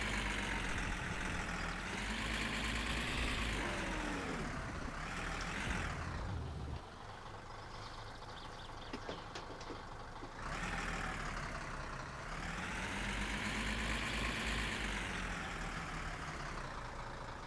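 A car engine in My Summer Car idles steadily after starting, a loud continuous drone whose pitch rises and falls with revs, and nobody talks.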